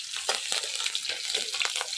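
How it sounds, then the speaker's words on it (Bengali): Bengali village cooking: greens frying in a pan with spices, a close, busy sizzle with scraping stirs pulsing through it, no talk. "এদিকে আমার শাকটা ভাজতে ভাজতে মা মাছটা বানাই দিবে না।"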